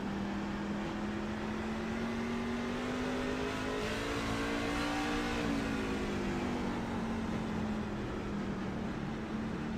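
A race truck engine in a sim racing game at Myrtle Beach Speedway holds a steady, continuous drone that rises slightly in pitch around the middle and then settles back, loud and alone with no talk.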